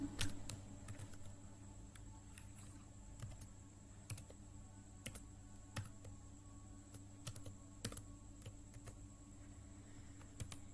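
JSP code typed on a computer keyboard in Sublime Text: a quiet, steady run of small key clicks, with occasional sharper presses, over a constant low room hum.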